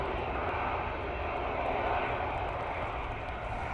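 A passenger airplane arriving from Krakow roars steadily at Manchester Airport on a windy day, a broad continuous engine rumble holding close and loud throughout with gusty wind noise mixed in.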